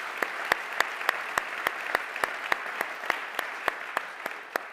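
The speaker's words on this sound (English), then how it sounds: "you can applaud them" An audience at a business talk in a venue applauds the event team. The claps are sparse, evenly spaced and fairly faint, with a steady rhythmic beat and no voices over them.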